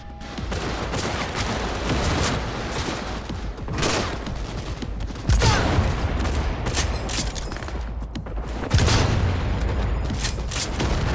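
Cyberpunk 2077 gunfire during a fight alongside Panam and the nomads: a sustained, loud barrage of overlapping shots with occasional heavier booming hits punctuating the constant fire.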